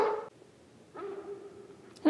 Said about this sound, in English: Who needs cell phones when you can just bark across the whole city?